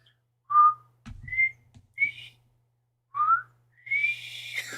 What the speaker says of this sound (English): That is a clean whistle. It's a high whistle too.